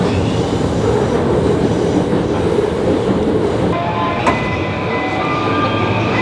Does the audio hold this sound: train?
yes